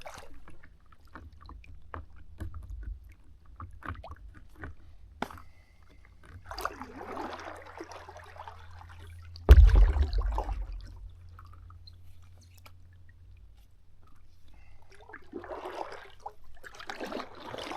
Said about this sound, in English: All right, we are back paddling.